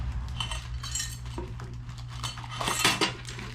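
Small metal brackets for a Traeger Pro Series 575 grill folding shelf clink and rattle against each other in a box, with irregular jangling bursts and a steady low hum underneath.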